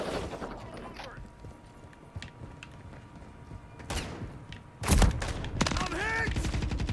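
Rapid gunfire in a military shooter game, scattered sharp shots and bursts at varying distances, growing denser toward the end, with voices calling out over it.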